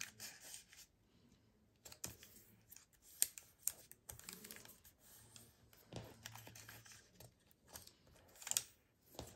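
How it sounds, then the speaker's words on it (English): Paper envelopes being folded in half by hand, giving soft creasing, rubbing and crinkling sounds in short irregular bursts with sharper snaps, close and fairly quiet. "I'm going to fold these in half"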